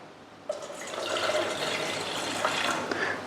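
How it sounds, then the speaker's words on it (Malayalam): Water poured into a pot of green chillies for a pachamulak moru curry, starting with a sharp splash and then running as a steady gush and trickle for about three seconds. "കുറച്ച് വെള്ളം ഒഴിച്ചിട്ട് ഇത് വേവിക്കാം"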